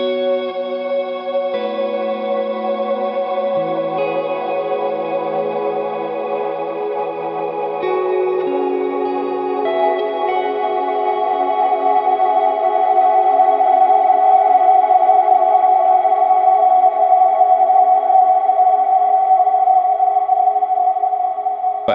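Sustained guitar notes ring out through a bright, metallic plate reverb on a Line 6 HX Stomp or Helix with damping fully open, layered chords blooming and swelling louder toward the end, with no voices.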